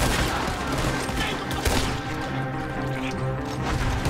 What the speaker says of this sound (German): Was ein Schuss.